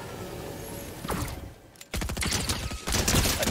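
An SMG fires in a video game in rapid bursts. A short volley is followed by a pause, then a longer sustained stream of close, loud shots.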